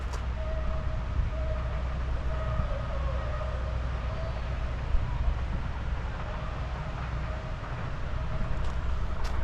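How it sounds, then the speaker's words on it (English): Low rumbling of a small train rolling past nearby, a steady mechanical drone with a faint tonal whine, continuous throughout. "Oh, there's a little train."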